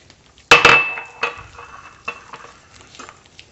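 A spoon scraping and clinking against a bowl while butter and sugar are stirred for cookies, with one sharp clattering strike followed by softer, irregular scrapes.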